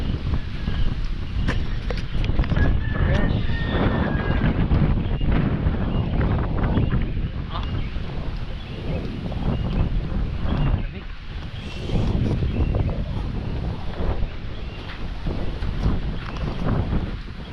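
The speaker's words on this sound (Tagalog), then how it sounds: "Kaso mahangin." Steady, loud rush of wind buffeting the microphone outdoors in Binangonan, Rizal, a continuous roar with low rumble throughout, and faint voices now and then beneath it.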